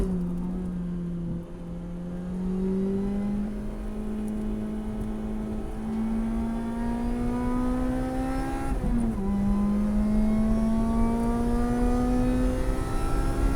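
A 2007 Lotus Exige S220 driven hard on a race track, its engine note heard from inside the car as a steady, loud drone that climbs in pitch, with a quick shift dip partway through.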